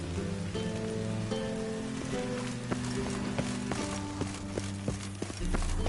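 Steady rain in The Witcher 3 video game, a continuous patter running under hoofbeats and a tonal music bed, with occasional sharper drops and knocks standing out.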